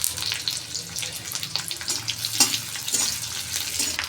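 Fresh grated coconut sautéing in half a ladle of oil, a busy crackling sizzle with repeated stirring scrapes and clatters, fairly close and continuous.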